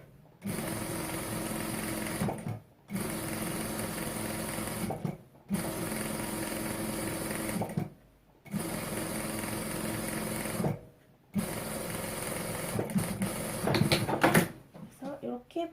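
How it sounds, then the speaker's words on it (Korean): Sewing machine stitching a thin line of fabric about 1–2 mm from the edge, running in four steady bursts separated by short pauses, close and clear, with a brief handling clatter near the end. "완전히 바짝 1mm, 2mm 옆에 한 줄을 이렇게 봉제를 합니다"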